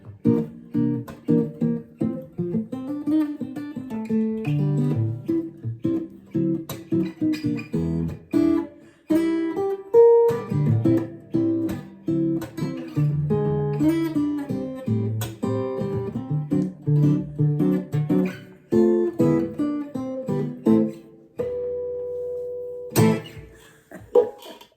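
Swing-style rhythm guitar playing a jazz chord progression from a song, short choppy strummed chords in a steady bouncing rhythm, played alone and close.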